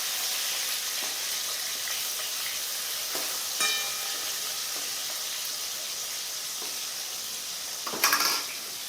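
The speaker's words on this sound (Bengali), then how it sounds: "মাছটা আমার ততক্ষণ ভাজা হোক" Fish pieces fry in hot oil in a pan, giving a constant close sizzle broken by a few louder spits and crackles, including a sharp burst near the end.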